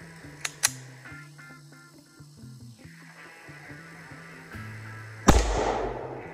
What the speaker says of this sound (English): let's take the CPX2 out and give it a few shots